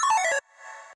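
A square-wave synth plays a quick bloop arpeggio of bright stepping notes, then a softer sustained tone rings on alone for the rest of the moment.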